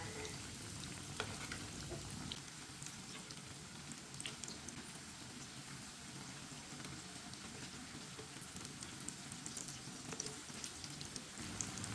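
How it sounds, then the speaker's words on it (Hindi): Food fries in a pan with a constant soft sizzle like light rain, while a spoon occasionally scrapes and turns it, steady and fairly quiet with no talking. "अब इसे टालेंगे, इस तरह चम्मच के साथ और टालेंगे"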